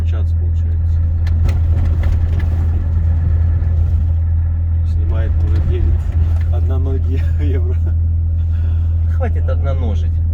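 A Volvo FH 540 truck engine pulls hard in fifth gear on a rough road, a loud, constant low rumble filling the cab while someone talks over it.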